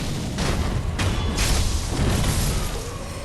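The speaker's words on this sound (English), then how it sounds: "These guys throw bombs." Bombs thrown by enemies explode in the Sekiro video game: dense, loud bursts of noise that roll one into the next with a few sharp peaks, and no talk over them.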